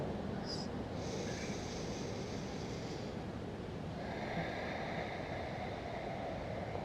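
Slow, even breathing in and out through the nose during a gentle yoga session: a soft, airy inhale is followed by a longer, gentle exhale, faint against quiet room noise.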